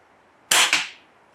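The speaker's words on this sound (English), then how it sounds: "Take a shot and see what it registers on the decimal meter." A single sharp crack from an Umarex Notos PCP air rifle fired in a backyard, close and loud, with a quick echoing second burst and a brief decay into quiet.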